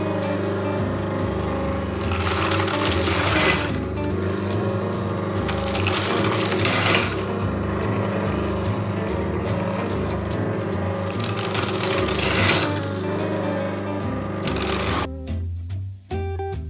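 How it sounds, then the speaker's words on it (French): A machine cracking and crushing cocoa beans for homemade chocolate, a steady loud mechanical grinding and rattling with periodic surges as handfuls of beans are pushed in, running continuously and then stopping. "il ne faut pas hésiter à y aller justement et à pousser les fèves à l'intérieur de la machine"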